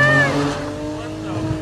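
A tuned all-wheel-drive Infiniti Q60 with over 500 hp, running low boost, revs up close by with a steady, strong engine drone and rising tonal whine, with faint voices underneath.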